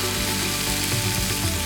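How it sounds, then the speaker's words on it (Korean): Beef rolls land in a pan still slick with leftover oil and fry with a loud, continuous close-up sizzle. "기름이 남은 팬에 바로 고기말이를 넣어서"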